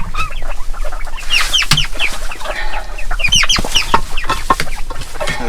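Quails cluck and chirp close by in a garden being prepared for autumn, with busy overlapping calls and soft scratching noises throughout and no talking.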